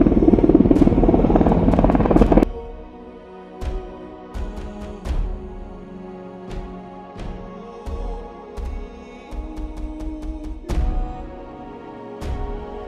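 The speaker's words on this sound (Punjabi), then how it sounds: "ਸਾਹਮਣੇ ਆ ਗਿਆ ਹੈਲੀਕਾਪਟਰ ਇਹ ਜਿਹੜਾ ਹੈਲੀਕਾਪਟਰ ਆ ਬਦਰੀਨਾਥ ਤੋਂ ਇਹਨੇ ਉਡਾਨ ਭਰੀ ਆ" A loud, steady helicopter rotor drone near Mana village in the Uttarakhand mountains fills the opening seconds, then cuts away to quieter surroundings with occasional sharp clicks and knocks.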